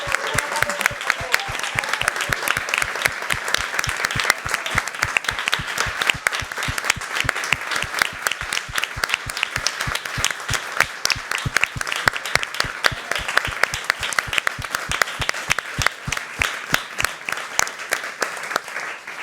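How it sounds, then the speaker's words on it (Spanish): A roundtable audience applauds the panel participants with loud, sustained clapping from many hands that keeps going for nearly twenty seconds, dense and close, with a few voices cheering. "Por favor, un aplauso para ellos."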